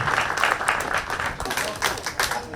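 Guests at an end-of-year party for public health officers in Kenya's Coast region clap together; brief, fairly close applause with irregular bursts, with faint voices mixed in.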